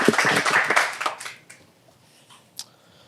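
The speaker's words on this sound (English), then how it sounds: "About a round of applause for Marie Gomez." A small audience claps briefly for a guest joining the host on stage, with a quick burst of hand claps that fades within a second into a few scattered, isolated claps and near quiet.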